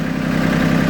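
An LS tractor engine idles with the hand throttle set all the way down, giving a steady, loud, even low rumble with no break or change in pitch.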